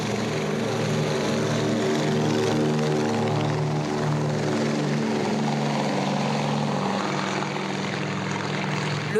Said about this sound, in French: pour laisser le Catalina faire sa démonstration